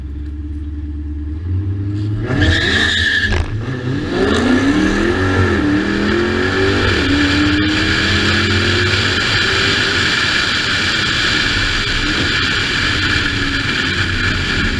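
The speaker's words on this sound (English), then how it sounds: "We just did an 1/8 mile with a Hellcat Charger." A cammed Dodge Hellcat Charger drag racing an RC car over an eighth mile roars loudly as it launches and accelerates past, its engine rumble lingering and fading through the rest of the run.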